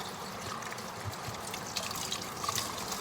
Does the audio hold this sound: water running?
yes